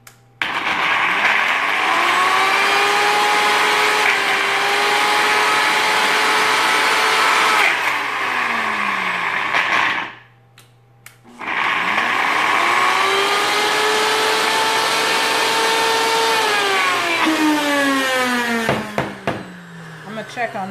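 A kitchen blender whirs at high speed through a thick zucchini mixture with little liquid, running in two long bursts separated by a brief pause, its pitch shifting as the load changes.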